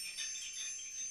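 Faint, high, shimmering jingle of many small bells hanging on a stand as the stand is moved, rustling together in a brief continuous wash, with no distinct strikes.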